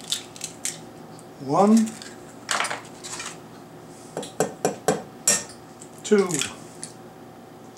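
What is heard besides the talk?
eggs being cracked into a bowl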